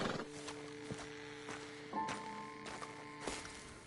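Horses in Red Dead Redemption 2 plod along with soft clip-clopping hooves and occasional snorts. The sounds are quiet and a little distant, with no speech.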